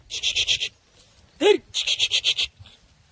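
Goats bleat repeatedly in short, nasal bursts, several calls in quick succession with a brief pause between groups, fairly close, as they walk toward a river.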